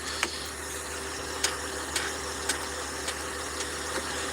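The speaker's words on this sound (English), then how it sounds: "The clunking noise is our body mount." A loose car body mount clunks while the engine idles, sharp knocks repeating roughly every half second over a low, steady idle hum with no talking.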